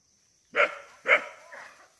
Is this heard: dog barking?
yes